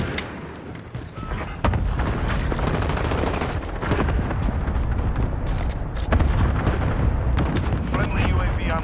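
Call of Duty: Modern Warfare multiplayer fire rattles in dense automatic bursts with booming impacts, loud and continuous, while in-game voice callouts speak over the shooting.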